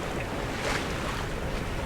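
A sailboat motors under power up the coast of Panama near the San Blas Islands, a steady broadband engine drone mixed with wind rush and water noise, constant and fairly loud throughout.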